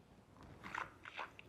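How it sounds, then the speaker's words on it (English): A person slurps wine, drawing air through it in the mouth with a few quiet, wet sucking bursts, close and faint. "you did a little sucking in of air technique to aerate it while it's in your palate"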